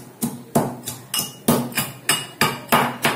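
Tomato chutney ingredients are pounded and crushed by hand, about ten sharp, evenly spaced thuds with a ringing clink, close and loud, with no voices.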